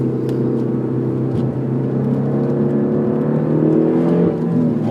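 A Peugeot 308 GTi engine revs hard, its pitch sliding through a rising sweep with loud interior rumble and a few sharp exhaust pops and crackles standing out near the start.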